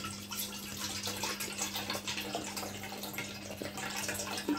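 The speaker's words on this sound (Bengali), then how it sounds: "দুধ মানে একটু গলে গেছে, তো গলাটুকু আমি ঢেলে নিচ্ছি" Partly melted frozen milk poured from its container, a faint, steady liquid trickle over a low electrical hum in a quiet kitchen.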